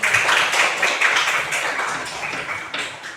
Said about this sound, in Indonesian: tepuk tangan kelompok Ibrahim